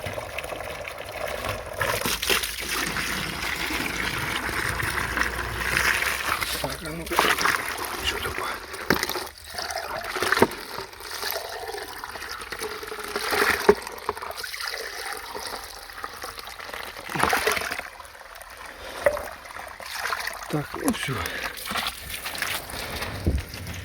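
Water runs steadily into buckets and a tank during fertilizer mixing for a vineyard, a continuous broadband trickling rush that stays fairly constant with occasional bumps and splashes.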